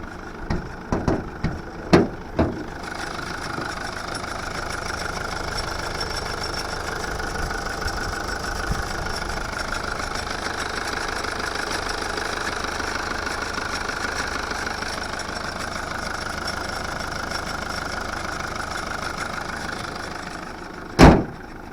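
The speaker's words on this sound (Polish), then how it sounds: "Sam silnik pracuje ładnie." A 2012 Toyota Avensis estate engine idles with a steady, even hum for most of the clip, preceded by a few knocks and followed by a single thud near the end.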